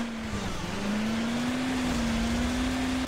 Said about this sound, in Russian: Вот куда этот мотоцикл газует?